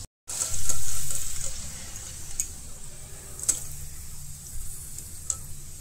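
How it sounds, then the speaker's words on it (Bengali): Shredded potatoes frying in hot oil give a steady, bright sizzle throughout, with a few sharp ticks and pops as they are stirred in the pan. "আমি একটু লাল লাল করে ভাজছি"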